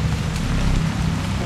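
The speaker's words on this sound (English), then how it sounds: "It's raining." Steady rain pours down in the horror game Haunted Memories, a loud, even hiss of falling drops with a low rumble beneath and no break across the short stretch.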